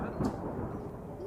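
Evening lightning strike outside a house with a thunder crack, heard as a brief, muffled rumbling burst of low noise, fairly faint and over almost as soon as it starts.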